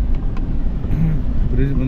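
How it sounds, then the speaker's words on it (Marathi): Road traffic passing near a bridge construction site on a road trip from Katra to Srinagar, a loud close rumble of vehicles with a person talking over it. "थोडं इकडे ट्रॅफिक आहे."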